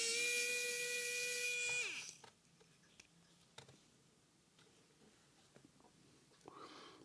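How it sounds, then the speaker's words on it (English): Screws are undone during a screen teardown of a 2018 MacBook Pro: a steady high-pitched tool whine runs for two seconds and then cuts out, leaving faint small ticks and clicks close by in a quiet room. "See if we can get these screws out then, shall we?"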